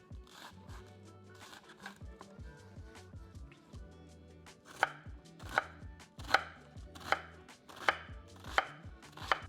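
A knife chops half an onion on a cutting board, starting with soft quick taps and building to sharper, louder knocks in a steady rhythm.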